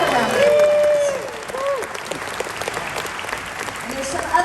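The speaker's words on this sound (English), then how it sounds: "So let's give that a round of applause." Audience applause at an anniversary screening event in a theatre, a dense burst that fades after the first second or so while a voice talks over it.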